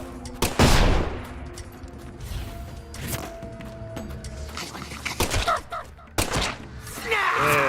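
Gunfire from Deadly Premonition 2 cracks out as a handful of loud, sharp shots spaced irregularly over several seconds, with a faint tonal game backdrop between them.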